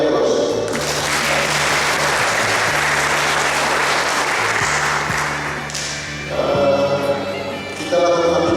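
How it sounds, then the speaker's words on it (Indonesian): An audience claps at a church ceremony, a sustained burst of loud applause from a large crowd that fades out near the end before a voice resumes over a microphone. "Kita beri aplaus."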